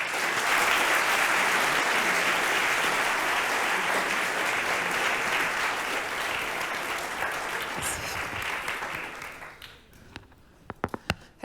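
A large conference audience at an indie games event gives a long, loud round of applause for an arriving speaker, dense clapping that gradually thins to a few scattered final claps.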